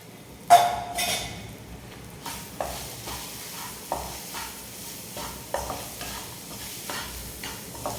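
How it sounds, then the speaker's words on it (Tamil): Spoon scraping and stirring cooked rice mixed with puliyodharai tamarind spice mix in a pan, a loud first clank followed by repeated soft scrapes and taps at irregular intervals, close up and with no talking. "சாதம் வந்து ஆற வச்சு வச்சுருக்கேன், அதை வந்து போட்டு கலந்துக்கிறேன்"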